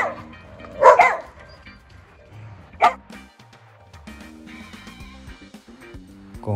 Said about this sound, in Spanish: el ladrido es profundo, en tonalidad grave,